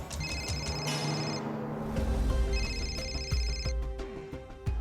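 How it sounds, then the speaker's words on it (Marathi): A phone rings with an incoming call during a Marathi TV drama scene. The repeating electronic ringtone tones sound moderately faint over a dense background music bed. "सीमा पाटकरचा फोन येतोय."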